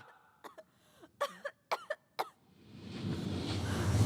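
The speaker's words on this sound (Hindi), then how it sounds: "खांसी को थोड़ा कंट्रोल करो ना प्लीज" A series of short, sharp coughs, about half a dozen in quick bursts, close by, followed by rising rushing noise.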